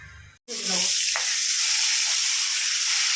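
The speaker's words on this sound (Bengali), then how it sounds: "শাকগুলো ভাজা হয়ে গেছে, তুলে নিলাম।" Boiled taro greens dropped into hot oil and frying, a sudden loud burst of hissing sizzle after a brief gap that then holds steady and strong, close up.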